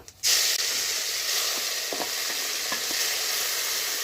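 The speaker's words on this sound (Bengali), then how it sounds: "গোটা সাদা জিরা জিরাটা চিরবিড়িয়ে ফুটে উঠলে দিয়ে দিচ্ছি একে একে সব মশলাগুলো" Whole cumin seeds and spices fry in a little oil, starting with a sudden burst of loud sizzle that then holds as a steady hiss, with a few faint stirring clicks.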